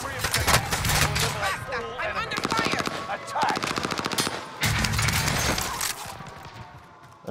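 Rapid automatic gunfire and scattered shots from a shooter video game fill the clip in loud, dense bursts, with brief gaps between volleys and in-game voice callouts mixed in.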